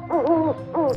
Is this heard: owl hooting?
yes